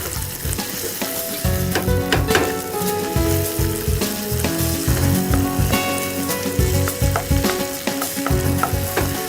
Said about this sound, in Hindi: इसमें मैं डाल रही हूँ शिमला मिर्च। बस हल्का सा सौते करें इसे।